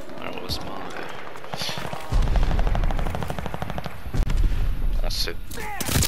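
A Thompson submachine gun fires in long rapid bursts in a multiplayer shooter video game, loud and close with crisp repeated cracks, while a player talks over the gunfire.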